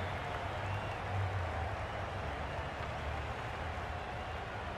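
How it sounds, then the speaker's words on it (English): Simulated crowd at a women's T20 cricket match between Australia and England in a video game, a steady, dense wash of applause and cheering that holds evenly throughout. "Will you listen to that crowd?"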